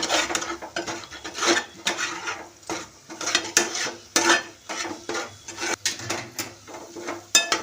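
Chutney masala with chili powder is stirred and scraped in a pan for a Kolhapuri chicken dish, giving close rhythmic metal scrapes and clinks in uneven bursts under a soft sizzle, with no talking.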